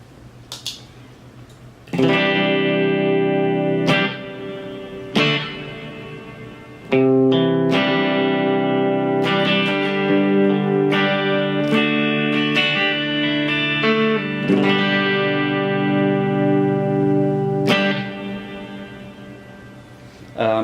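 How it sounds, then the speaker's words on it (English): Clean electric guitar rhythm chords washed in a TC Electronic Hall of Fame reverb on its church setting, played as a series of strummed chords with long ringing tails, close and fairly loud. "The reverb that I'm using is a TC Electronic Hall of Fame."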